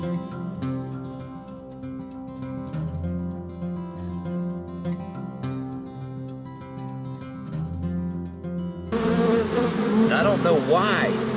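Bees swarm around a crowded hive, their buzz loud and close, with individual insects droning past a camera near the hive; a sharper, louder burst of buzzing comes toward the end.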